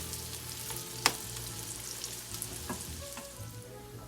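Potatoes and onions fry in a pan with a steady, close sizzle and crackle, broken by a few sharp pops and light stirring scrapes.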